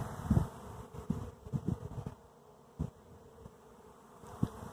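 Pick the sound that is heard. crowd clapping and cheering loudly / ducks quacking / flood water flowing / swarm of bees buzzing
swarm of bees buzzing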